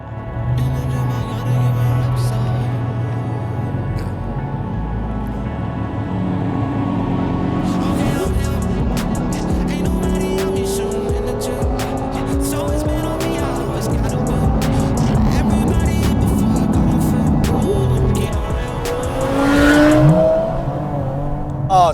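A car engine on the road, droning steadily then revving with rising and falling pitch sweeps, loud and close throughout with a stronger surge near the end and no talk over it.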